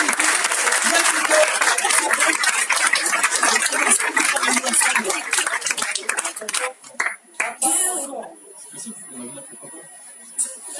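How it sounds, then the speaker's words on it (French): An audience at an awards ceremony for a creators' challenge claps in dense sustained applause that fades out after about seven seconds, leaving quieter room sounds behind. "on peut les applaudir"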